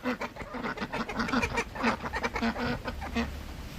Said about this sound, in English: We're checking out the ducks.